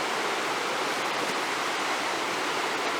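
Low, calm river water flowing below Breakneck Falls: a steady, even rushing hiss of moving water, close and constant throughout.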